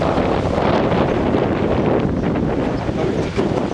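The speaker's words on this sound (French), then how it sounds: "Il y a beaucoup de vent" Strong wind buffets the microphone in a steady, loud roar outdoors on a hillside near Calpe, with no voices heard.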